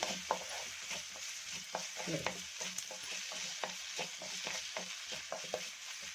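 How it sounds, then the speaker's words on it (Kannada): Onion and tomato with salt are stirred in a frying pan, a steady low sizzle under repeated scraping taps of a spatula against the pan in an uneven rhythm, close and fairly quiet. "ನೋಡಿ, ಚೆನ್ನಾಗಿ ಮಿಕ್ಸ್ ಮಾಡ್ಕೊತಾ ಇದ್ದೀನಿ."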